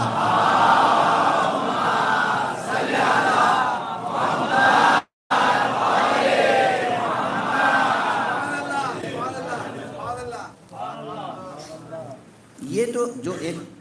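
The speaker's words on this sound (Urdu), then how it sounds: "اس لیے ایک صلوات پڑھ دیجئے محمد" A majlis audience recites salawat together in a loud, dense collective chant, with crowd voices filling the space continuously and a brief gap partway through.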